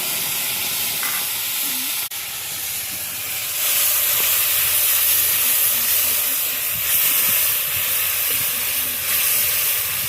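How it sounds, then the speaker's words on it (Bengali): Spices hit hot oil in a kadai after a bay leaf and cumin tempering, giving a loud continuous hissing sizzle that swells partway through and holds steady, with no talking. "কড়াইতে চলে গেল মশলা"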